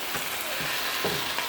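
Bourbon sizzling hard with tomatoes in a very hot pan, a steady loud frying hiss with a few faint stirring scrapes, no voices.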